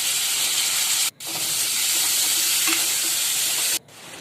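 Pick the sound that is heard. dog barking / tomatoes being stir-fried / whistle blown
tomatoes being stir-fried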